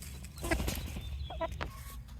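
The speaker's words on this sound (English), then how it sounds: "But don't worry about the chickens." Backyard chickens in a grassy garden enclosure give a few soft, scattered clucks, faint and intermittent against quiet outdoor background.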